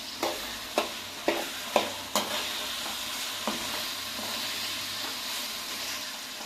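Onions frying with tomato pulp for a Nellore-style fish curry, a steady sizzle broken by a run of sharp spoon taps and scrapes against the pan early on, then calmer frying.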